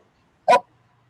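A dog gives a single short, sharp bark, close and loud, breaking an otherwise quiet indoor background.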